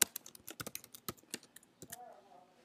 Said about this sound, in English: So what I'll do is type my information